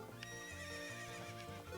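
A horse neighs and whinnies close up in The Legend of Zelda: Ocarina of Time, with game music and hoofbeats running underneath through the whole short stretch.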